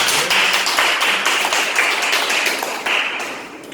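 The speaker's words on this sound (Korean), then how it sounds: "박수 한번 해주세요" An audience at a Korean lecture on nanotechnology applauds, a steady, fairly loud spread of many hands clapping that tapers off toward the end.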